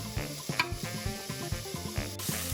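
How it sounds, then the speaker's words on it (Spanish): Chicken pieces sear in a hot pan over raised heat, giving a quiet sizzle broken by repeated stirring and scraping knocks in an irregular rhythm. "subimos el fuego para marcar el pollo"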